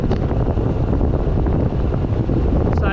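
Loud, continuous wind buffeting a microphone while cycling downhill at about 30 mph, a roaring low-frequency rush with no voices.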